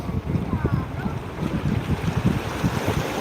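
A fishing trawler heavily loaded with catch comes back from the sea at Digha Mohana, its low engine throb pulsing close beneath gusty wind and lapping water.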